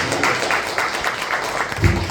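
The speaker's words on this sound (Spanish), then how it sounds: "que le regalemos un aplauso al Señor" A church congregation claps in a steady rhythm, about four beats a second, fairly loud and sustained.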